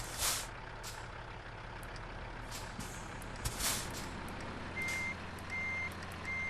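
Reversing beeps from a truck in American Truck Simulator, a few faint evenly spaced beeps alongside a low engine idle and short hisses like air brakes.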